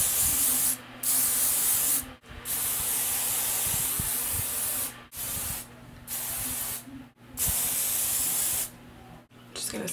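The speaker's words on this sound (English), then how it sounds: "Go back in with our dry thickening spray." Several hissing bursts of dry thickening hair spray from an aerosol can, some long and some short, broken by brief pauses, close by and fairly loud.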